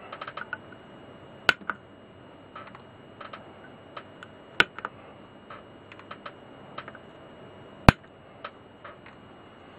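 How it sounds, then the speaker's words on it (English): Wire cutters snipping excess component legs after soldering during a Dragon 32 computer refurbishment: a few sharp, distinct clicks spaced seconds apart over faint scattered ticking, close and isolated. "Just snip off the excess of the legs."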